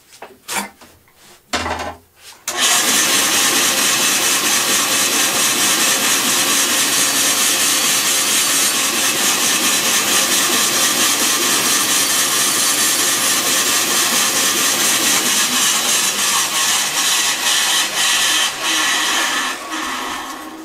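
Wood being cut for a Stampe SV4 biplane rudder, a steady loud buzzing saw run after a few brief knocks, continuing evenly for about eighteen seconds before easing off, with no talking.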